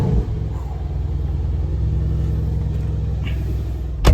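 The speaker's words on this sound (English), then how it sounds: "By the way, listen to this cold start." A Mercedes C63 engine on a cold start gives a deep, loud, steady rumble with a pulsing low throb up close, ending with a brief sharp burst.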